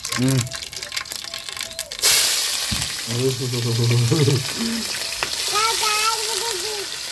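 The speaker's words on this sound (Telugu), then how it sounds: "నూనె అయితే కాగేదే జీలకర్ర ఆవాలు అయితే వేసుకుందామండి" Cumin and mustard seeds dropped into hot oil for a ridge gourd curry, starting a sudden loud hiss that settles into a steady crackling fry while people talk over it.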